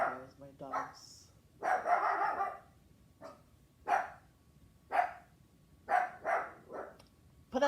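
Dogs bark repeatedly at close range in an indoor setting, a series of sharp separate barks and yips spaced across the moment, some in quick pairs.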